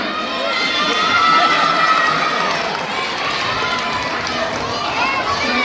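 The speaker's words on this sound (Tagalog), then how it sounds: "sabay-sabay palakpakan at hiyawan" A pageant audience at a Miss Gay fiesta event shouts and cheers together, a loud, steady mass of crowd noise filling the whole stretch, with screams rising and falling.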